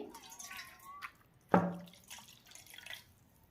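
Water drips and trickles from a towel soaked in hot water during a facial, a sharp splash at the midpoint among softer wet patters nearby.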